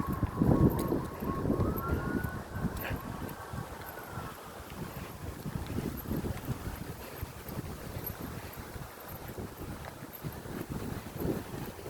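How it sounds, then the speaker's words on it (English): A siren wails in the distance outdoors near a store during a fire alarm, its rising tone showing early and then fading under heavy wind buffeting and background noise. "sirens."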